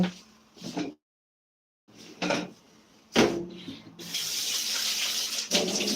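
Kitchen tap water runs into a glass while a cake is being baked. Brief handling clatter comes first, then a steady, close rush of flowing water lasts a couple of seconds.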